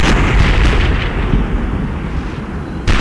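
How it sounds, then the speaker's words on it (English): A relentless artillery barrage in the combat game Combat Mission: Shock Force, loud overlapping booms and blasts rumbling continuously, with a fresh sharp impact at the end. "I was amazed that any enemy force survived this totally brutal artillery barrage."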